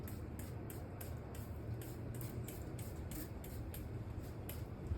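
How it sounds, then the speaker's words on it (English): Liquid sprayed around a tire rim mounted on a Harbor Freight tire changer, heard as a series of short, evenly spaced hissing bursts over a steady low background rumble. "Spray it around the rim."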